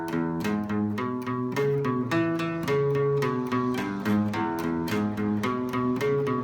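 A guitar plays a boogie exercise at full tempo, a driving, evenly pulsed run of low shuffling notes with occasional higher accents, heard alone, close and clear.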